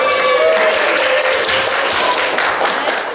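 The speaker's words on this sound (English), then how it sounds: "Let's give her a round of applause." A loud, steady burst of audience applause, many hands clapping at once, with faint crowd noise and a few tonal sounds near the start.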